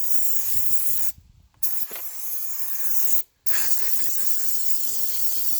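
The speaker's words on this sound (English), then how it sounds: "Now you can do this with a small compressor, but you need something that's going to be able to handle it." A compressor-fed sprayer coats the underside of a car with Fluid Film rust protection around salt-rusted parts, producing a steady, close hiss of spray broken by two short pauses.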